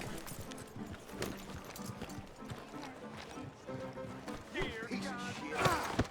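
Horse hooves clip-clop steadily in the video game Red Dead Redemption 2, a quick rhythmic clatter close by, mixed with voices and other game sounds.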